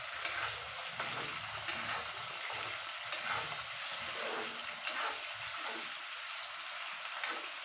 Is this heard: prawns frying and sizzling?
yes